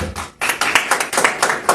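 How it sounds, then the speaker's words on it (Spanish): Church congregation clapping in a quick, loud, rhythmic burst of hand claps close by, with no talking over it. "Dale un fuerte aplauso a nuestro Señor Jesucristo, amén."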